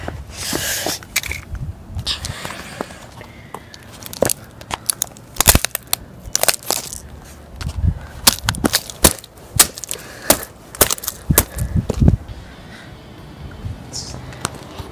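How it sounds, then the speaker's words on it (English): A toy helicopter being smashed apart, giving a string of sharp cracks, snaps and crunching impacts in irregular bursts, close and loud, with occasional breaths and movement between blows. "now let's destroy the helicopter"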